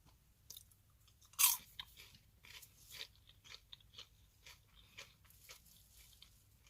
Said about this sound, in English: The popcorn is very crunchy and you can clearly taste the drizzled chocolate.